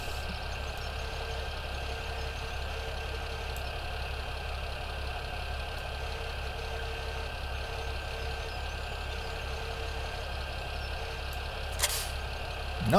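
A farm tractor engine idles steadily with a low, even rumble while its front end loader is offloaded, running alone at moderate level with a brief clank near the end.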